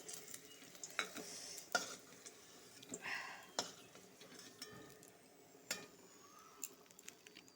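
Bitter gourd fries in hot oil with a low, continuous sizzle, broken by repeated sharp clicks and scrapes of a utensil stirring in the pan.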